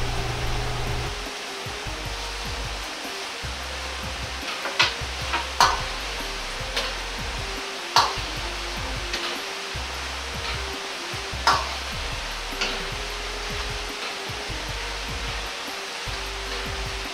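Potato pieces deep-fry in oil over high heat for Chinese-style German potatoes, a dense, unbroken hiss of bubbling oil with a few scattered close clicks and pops, loud and steady throughout.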